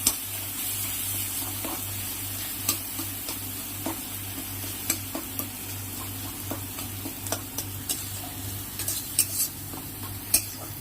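Masala with turmeric and salt is stirred in a pan for a fish curry, a soft sizzle under a low steady hum, punctuated by repeated light scrapes and taps of the spoon against the pan.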